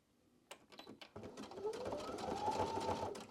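A sewing machine stitches an embellishment round onto a quilt wallhanging, starting with a few separate clicks then running into a fast, steady mechanical whirr with a rising hum, close up and moderately loud.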